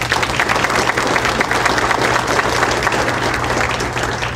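An audience claps steadily to welcome speaker Sarah Klavas at a tourism talk, a dense, even wash of applause filling the room.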